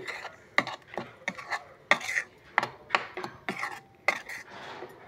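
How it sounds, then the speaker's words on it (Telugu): A spoon stirs tempering into chutney in a bowl, giving repeated sharp scraping clinks against the bowl in an uneven rhythm, close and fairly clear, with no talk. "సో ఈ విధంగా తాలింపు వేసేసుకొని దీన్ని కలుపుకొని"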